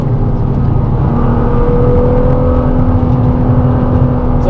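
A Nissan GT-R's engine drones loudly and steadily from inside the cabin on a race track, with a throaty exhaust note holding at an even pitch throughout.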